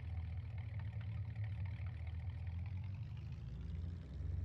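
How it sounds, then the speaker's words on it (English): Old farm truck engine idling in Farming Simulator 19, a steady low rumble held at an even level throughout with no talk over it. "It's got a really, really good engine sound to it."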